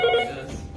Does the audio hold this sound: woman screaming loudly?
no